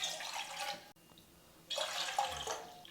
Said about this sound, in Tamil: நான் ரவை எடுத்து அதே கப்பில் 3 கப்பு தண்ணி சேர்த்துக்கிறேன்